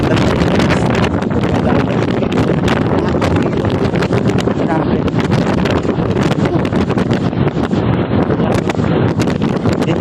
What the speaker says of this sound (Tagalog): Siguro may mahangin dito.